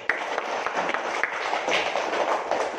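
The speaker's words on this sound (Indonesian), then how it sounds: "Tepuk tangan untuk kelompok 1." Students in a classroom clap for a group that has just presented during a Quran recitation lesson: a short burst of steady, brisk group applause.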